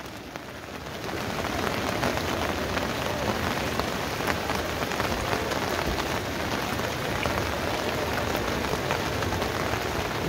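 Heavy rain pours down steadily during flooding in Kathmandu, a dense, unbroken roar of drops hitting surfaces that swells after the first second and stays loud throughout, with no voices.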